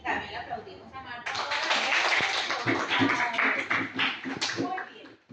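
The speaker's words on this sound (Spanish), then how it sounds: "Sí, también le aplaudimos a Marta." A classroom group of students claps for a classmate, a dense burst of hand claps starting about a second in and running steadily to the end, with some voices mixed in underneath.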